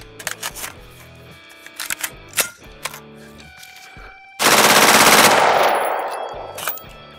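An AR-15 rifle with a nitride-treated barrel, fed from Daniel Defense magazines, fires full auto: scattered sharp shots with ringing echoes, then one long loud sustained burst that tails off, close and without talk.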